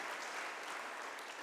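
A crowd applauding at a Guru Purnima speech event in Sangamner, a brief, dense burst of clapping from many hands, steady and fairly distant.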